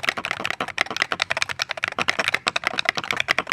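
Rapid typing on a $20 Hall Effect keyboard: close, crisp keystrokes in a quick, fairly steady rhythm with no talking.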